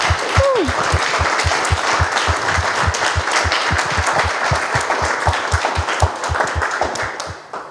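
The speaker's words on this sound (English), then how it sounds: "can we have just a round of applause for our fabulous panel?" An audience applauds a panel at a live event on digital home buying and selling, a full steady round of clapping with one sharp, regular nearby clap standing out in even rhythm, easing off slightly at the end.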